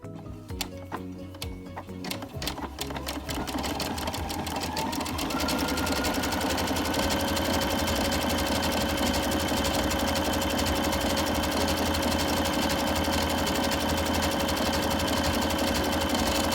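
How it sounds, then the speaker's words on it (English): A sewing machine stitches along the top edge of gauze fabric, starting with quick uneven clicks that speed up into a loud, fast, continuous mechanical whirring close by. "so we're going to sew along the top edge"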